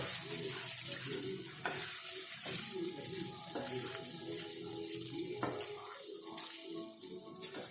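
Gram flour being stirred into capsicum in a pan, with a steady low sizzle and soft scraping of the spatula that runs continuously, close and moderate in level, while a voice is faintly present beneath.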